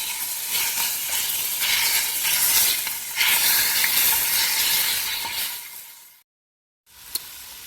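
Ground beef and onion frying in a pan over reduced heat, a loud continuous hiss and sizzle with faint scraping, ending in a brief cut to silence then a short return of sizzling.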